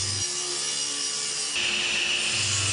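A Powermatic PM2000 table saw cuts a 3/4-inch red oak board with a loud, steady, close whine, and its pitch and texture shift noticeably partway through the short cut.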